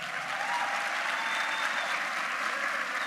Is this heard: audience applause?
yes